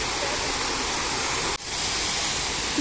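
Steady, loud rushing water close by, a dense continuous roar with one brief dip partway through before the flow resumes.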